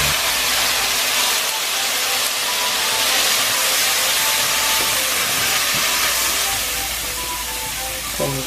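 Red wine poured into a hot pan of beef, onions and tomato paste sends up a loud, steady hiss of steam and sizzle that holds for the whole stretch.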